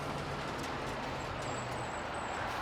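Midday traffic on a Copenhagen city street on a Tuesday, a steady, even roadway hum with no horns, continuous throughout with no clear voices.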